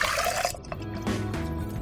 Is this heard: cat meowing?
no